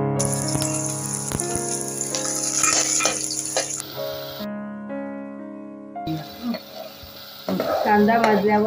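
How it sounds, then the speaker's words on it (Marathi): Onion and tomato are stirred together in a pan for a spicy clam and potato gravy, with scraping spoon strokes and a soft sizzle. The sound breaks off in the middle and then returns louder, with close, busy clattering. "टोमॅटो आता कांद्याबरोबर चांगला मिक्स करून घेऊया"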